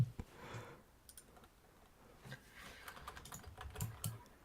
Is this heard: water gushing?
no